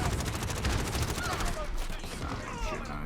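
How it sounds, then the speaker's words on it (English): Rapid gunfire in a Call of Duty match, a sustained stream of automatic shots close and loud throughout, with no talking. "I'm shooting on a teammate."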